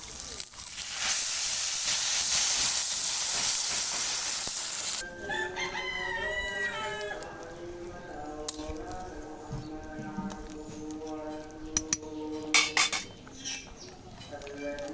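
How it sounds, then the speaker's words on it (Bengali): Boiled hot water poured into a pot of fried chicken, potatoes and spices for biryani gives a loud hissing rush for about five seconds, then fades as a rooster crows nearby amid light clatter of utensils. "ফুটানো গরম পানি দিয়ে দেবো।"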